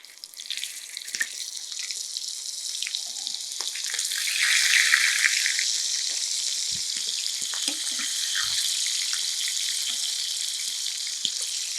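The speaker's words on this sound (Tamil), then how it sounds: "இந்த மீனை அப்படியே இதில் ஃப்ரை பண்ணி எடுத்துடலாம்" Fish frying in hot oil for a Thai fish curry, a steady broadband sizzle and crackle that swells and holds continuously throughout, with scattered pops and spits, no voices.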